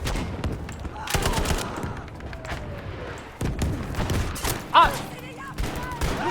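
Type 11 light machine gun firing in the video game Battlefield V, bursts of rapid shots and booms spread through the clip amid dense battle noise, with speech faintly underneath.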